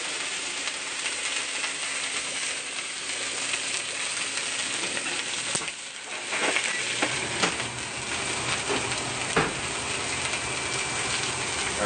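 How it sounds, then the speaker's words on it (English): Steaks sizzle in a very hot pan, a steady broad hiss that runs loud and unbroken throughout, with a brief dip midway followed by crackling spits and pops. "as you hear that sizzling sound coming off, that's the juices from the steak being vaporized by the heat."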